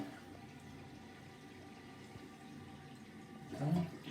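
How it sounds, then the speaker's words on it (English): A toilet in a downstairs bathroom is flushed, with a low water rumble that swells near the end of the clip over a steady background hiss. "I'm going to flush it."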